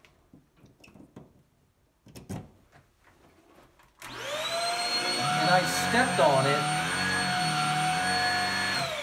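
A household vacuum cleaner, plugged into a circuit fed by an Eaton BR series panel, roars to life after a few seconds of quiet talk and footsteps, then runs as a loud, steady, close whine with shifting tones while a voice speaks.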